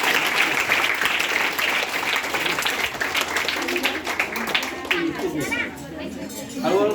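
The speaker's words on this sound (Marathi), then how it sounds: "काय तुमच्या वर्गात नाही बरोबर टाळ्या वाजवा त्याच्यासाठी" A classroom of children claps in applause, a dense burst of many hands close by that thins toward the end, with chatter and voices mixed in.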